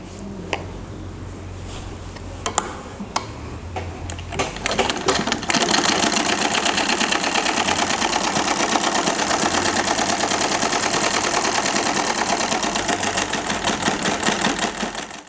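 Electric sewing machine stitching the second side seam of a cotton Aligarh pyjama, a few short start-stop bursts at first, then a steady loud mechanical whir running continuously for about ten seconds.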